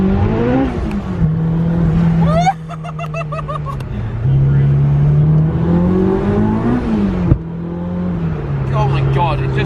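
A 450 bhp supercharged Honda S2000 track car accelerates hard in wet weather, engine note climbing through gears with sharp shifts and VTEC engagement, heard from inside the cabin as occupants laugh and talk over it.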